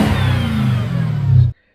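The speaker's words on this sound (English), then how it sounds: "as soon as you start to accelerate, it makes a really nice blower whine" A car with a carbon cold-air intake and supercharger accelerating, its engine rising with a steady blower whine over a strong low rumble, loud and continuous before cutting off abruptly.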